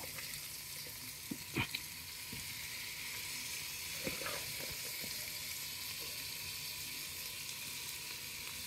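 Chopped leek frying in a pan for a cream of leek and potato soup, a steady soft sizzle with a few brief clinks and stirring knocks, close and otherwise alone.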